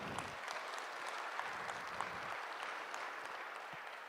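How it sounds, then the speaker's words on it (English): An audience at a G20 MSME digital innovation challenge conference gives a round of applause, dense steady clapping from a crowd, heard from a distance and fairly quiet throughout. "So let's give them a round of applause as well."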